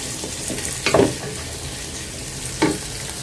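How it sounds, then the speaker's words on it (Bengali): Onion and green chili frying lightly in a pan, a soft steady sizzle broken by two scraping stirs of a spatula, close and without talk. "পেঁয়াজ আর কাঁচামরিচটা একটু হালকা ভেজে ভাজবো"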